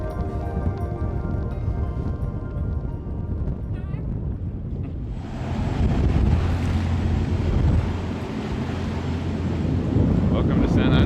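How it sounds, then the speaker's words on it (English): A sailboat running into the San Andres harbor with wind on the beam, carrying steady broadband wind rush and water noise that swells midway and stays loud and close throughout, with no voices. "as you can see, yes, we are sailing into the harbor"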